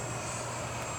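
RC model F9F-8 Cougar jet flying overhead, a steady high turbine whine with a low rumble beneath, heard alone at moderate distance.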